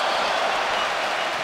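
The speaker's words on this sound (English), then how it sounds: "And the Bulgarian crowd is really cheering him on." A Bulgarian crowd cheers at the GLORY 89 kickboxing fight between Gafencu and Hristov, a loud, steady, unbroken roar filling the arena without a pause.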